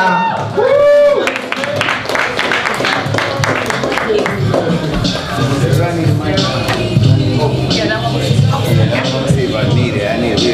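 Crowd at a live performance applauding and cheering for performers, with a dense wash of clapping, whoops and hubbub throughout, mixed with voices talking over it.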